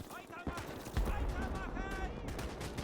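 Gunfire rattles across a trench in the game Gates of Hell, with rapid rifle and machine-gun bursts, dense and continuous, while a voice talks over the shooting.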